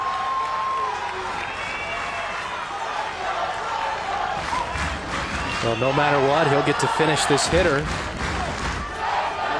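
Peachtree City fans at a Little League baseball regional final applaud and cheer as a broad, steady crowd roar from the stands, with a commentator talking over it.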